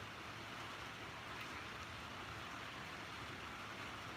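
Rain falls steadily as a dense, even hiss with no pauses, heard from a farm barn.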